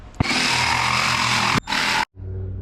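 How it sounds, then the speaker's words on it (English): A Ryobi jigsaw runs loud and close with a steady buzzing whine, cuts out briefly, restarts for a short burst, then stops, leaving a low hum. "It's a good jigsaw though."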